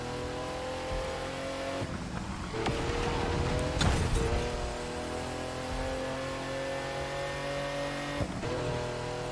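A Bugatti EB110 Super Sport engine in a racing video game howls at full throttle, a steady loud multi-tone whine that surges and climbs with brief shifts and bursts, running continuously close up with no talk.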